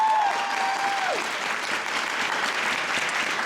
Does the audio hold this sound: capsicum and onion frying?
no